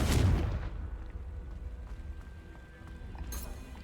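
A Confringo fire spell in the video game Hogwarts Legacy lands as one sharp, loud blast right at the start, then a rumbling tail decays into a low ambient hum with a faint flicker near the end.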